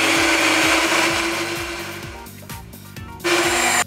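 A stand mixer beats soft lemon yogurt cake batter at increased speed, a loud close motor whir with rhythmic repeating churn, dipping briefly near the end before surging again.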